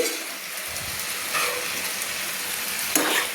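Spinach tossed in a pan for a spinach-and-prawn dish sizzles with a steady frying hiss, broken by a few scraping stirs of the spatula close by.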